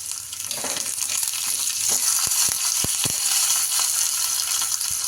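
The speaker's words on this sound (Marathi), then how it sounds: "मोहरी घालूया तेल तापलंय" Mustard seeds, slit green chillies and curry leaves sizzling in hot oil over a low gas flame: a steady close frying hiss with sharp crackling pops scattered through, several bunched in the middle.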